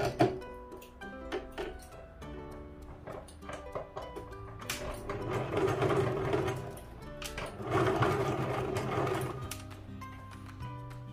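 A sewing machine stitches a dress in short intermittent runs of rapid clattering, starting and stopping between pauses, with two longer continuous bursts in the middle, close up and without talking.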